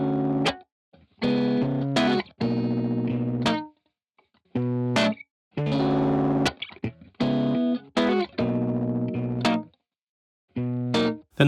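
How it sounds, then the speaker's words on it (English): A guitar loop passes through an Arturia Delay Tape-201 plugin set to the original RE201 preamp, which gives gritty, saturated chords struck in short bursts with clear gaps of silence between them and no talking. "Now the next option over is the original RE201 preamp that dirties up the sound really nicely."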